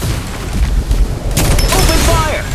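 Gunfire and explosions in the video game Farlight 84, a rapid burst of booming shots followed by a dense flurry of crackling fire and whooshing effects, loud and close.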